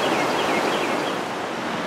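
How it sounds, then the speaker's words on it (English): Creek water rushing steadily over rocks beside an old mill at Sweetwater Creek State Park, a dense continuous roar with no pauses or voices. "the rush of the water over all these rocks"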